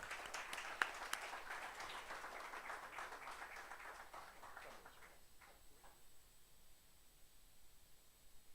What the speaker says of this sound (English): I request everyone to welcome Mr. Nilesh Shah with a very big round of applause